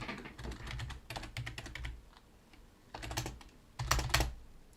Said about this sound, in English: I'm typing at a really bad angle.